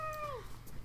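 A young cat about 8-9 months old gives a single clear, falling meow indoors, close and fairly soft, with no talk over it.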